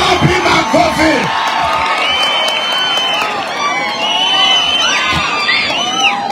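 A large crowd at a fundraising event cheers and shouts loudly throughout, with overlapping whoops and raised voices filling the space continuously.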